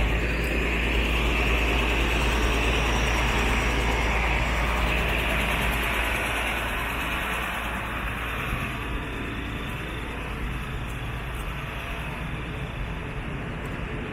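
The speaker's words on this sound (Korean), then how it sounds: "쓰레기차" A garbage truck drives along a seaside street at night in Pattaya, Thailand, giving a steady, loud engine rumble that fades slightly as it moves on, with no talk.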